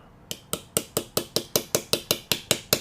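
About a dozen sharp metallic taps in a quick, steady rhythm, close and crisp, as the back of a pair of pliers taps a bearing into place on a Yokomo YZ-870C radio-controlled car.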